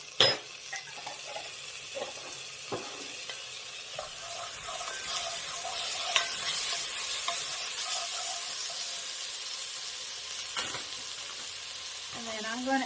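Minced garlic frying with onions in a pan as chili is made, a steady sizzle running throughout with intermittent scraping and clinks of a utensil stirring, fairly close and alone.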